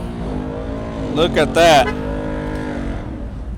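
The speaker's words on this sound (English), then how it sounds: "Oh, there's a car burning out." A car at a car meet doing a burnout, a short burst of engine revving and tire squeal rising in the middle, with people talking nearby before and after.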